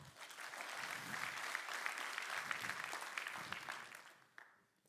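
Audience applause at a lightning talks event as a speaker takes the stage, a steady wash of many hands clapping that swells, holds, then fades out near the end.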